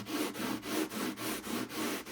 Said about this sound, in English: and sand the frets